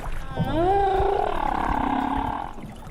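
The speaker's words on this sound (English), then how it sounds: "Michelle had years of whale songs captured on tape" A long, rising and falling whale call, moaning and tonal, sustained for a couple of seconds over low watery rumble.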